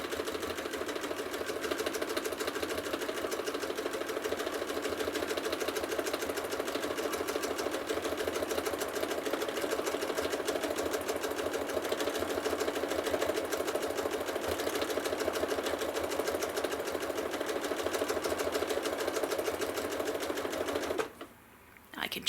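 A sewing machine stitches a quilt in a long, steady, rapid mechanical whir, close and continuous, stopping abruptly near the end.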